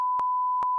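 A steady pure-tone censor bleep sounds loud and continuous for under a second, with faint clicks at its edges.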